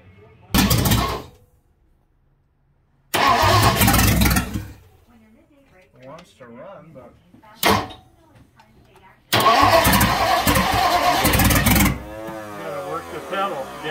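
Engine of a 1958 Thunderbird cranks and fires with no exhaust pipes attached, loud bursts of cranking and rough running broken by pauses, then a sustained roar; voices talk between attempts.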